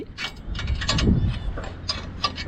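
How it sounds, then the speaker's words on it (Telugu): A 14 mm spanner tightens a bolt on a crash guard being fitted to a Suzuki V-Strom SX 250 motorcycle, producing a short series of close metallic clicks and ratcheting scrapes over a low background rumble. "ఇప్పుడు పద్నాలుగుతోనే ఇది బోల్ట్ ఫిట్ చేస్తున్నాము"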